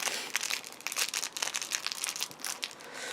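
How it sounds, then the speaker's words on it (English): Plastic wrapping crinkles up close as it is handled at a Christmas market, making a continuous, busy crackling with frequent sharp rustles and no speech. "there's plastic wrapping as well, which is really annoying"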